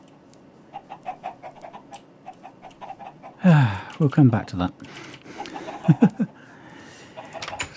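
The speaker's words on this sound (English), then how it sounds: "Why are my chickens dropping no eggs at all?" Minecraft chickens give short, evenly spaced clucks at low volume, with someone speaking over them partway through before the clucks return sparsely.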